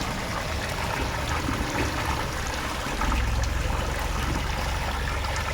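Water flows and trickles continuously at a temple at night near Sathyamangalam, a steady rushing sound that swells slightly partway through, with no voices.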